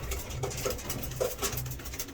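Racing pigeons coo at a loft, a steady layered murmur of low soft coos repeating close by, with light patter and rustling over the top.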